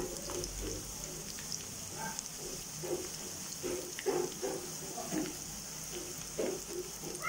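Onions sautéing in oil in a pan for Tamil hotel-style vadakari, with soft, irregular sizzling and crackling pops at low volume, with quiet background noise.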